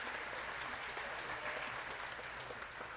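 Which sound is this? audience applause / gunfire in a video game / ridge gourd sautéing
audience applause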